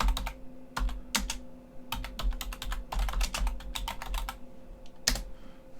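Keys clatter on a computer keyboard as update commands are typed, in quick irregular bursts of close, crisp clicks with brief pauses between them and a faint steady hum behind.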